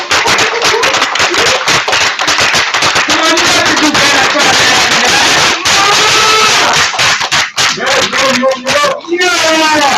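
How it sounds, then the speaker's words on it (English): An audience at an indoor talk gives a round of applause, a dense, loud patter of clapping mixed with voices talking over it. "Please give a round of applause"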